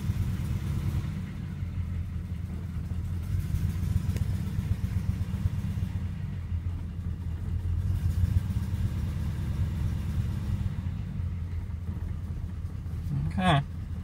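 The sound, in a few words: Sweet71 car engine cold start and idling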